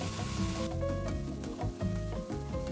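Beef stir-frying with dried chilies in a hot wok, a steady bright sizzle with the clatter and scrape of stirring, close and moderately quiet, no talk.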